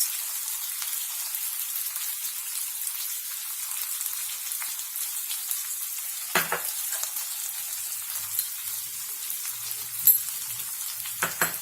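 Potatoes seasoned with sugar and salt sizzle steadily in a frying pan, with a few louder scraping stirs partway through and near the end; no voices.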